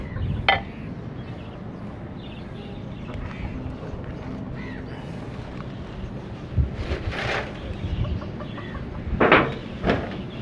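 Hens cluck in short bursts over steady wind noise and a low outdoor rumble, with a couple of sharper calls near the end; a broody hen sits on eggs nearby with a duck.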